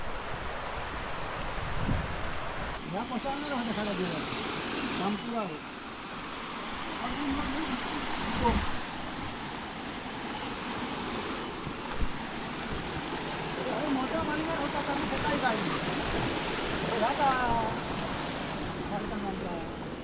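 Water rushes steadily along an irrigation channel in a Konkan forest, a continuous broadband wash with slight surges, heard up close throughout, with some wind buffeting the microphone.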